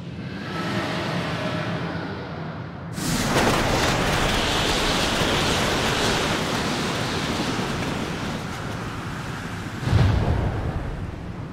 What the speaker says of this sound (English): There's a wind.